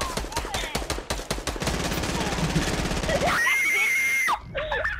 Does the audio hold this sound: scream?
yes